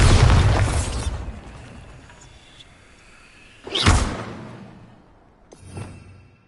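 The Bombarda explosion spell in the video game Hogwarts Legacy: a loud booming blast that decays slowly, then a second sharp explosion and a smaller third burst, with no talking.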